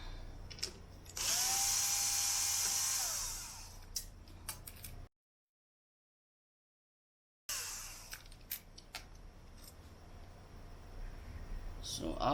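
Electric screwdriver backing out the four screws holding the push button switch on a ReVox F36/D36/E36 reel-to-reel deck: a steady whining burst of about two seconds, with clicks and handling noise and a stretch of silence.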